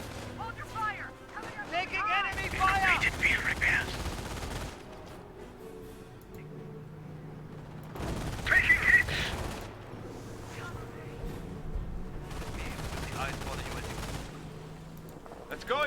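MG42 machine gun fire in the Company of Heroes war game, loud rattling bursts in several separate volleys with quieter battle noise and a voice between them.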